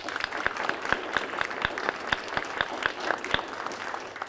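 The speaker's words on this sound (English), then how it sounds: "I would love to send a big, warm round of applause to Ariana Van Cook" Applause from an awards-ceremony audience for a young poetry winner, steady and fairly faint, heard with a distant, roomy quality and no talking over it.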